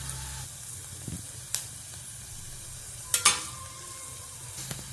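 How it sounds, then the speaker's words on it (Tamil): Onions sauté in a pan for tomato rice with coconut milk, giving a soft, steady sizzle and hiss with a few sharp spatter pops and light stirring clatter, and no voices. "இப்போ இது வெங்காயம் வதங்கிட்டுருக்கு நல்லா வதங்கினதுக்கப்புறம் தக்காளி போடணும்"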